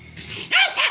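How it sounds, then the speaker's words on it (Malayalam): A dog barks twice in quick succession at a scooter passing on the road, close and loud, following a brief low growling whine, all within a second. "സ്കൂട്ടർ പോകാനാണ് പട്ടി കുരയ്ക്കുന്നത്."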